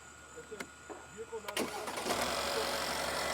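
A few clicks and a short cranking on a weak battery, then a Mercedes CLS 400 M276 engine catches and settles into a steady, rumbling idle close by.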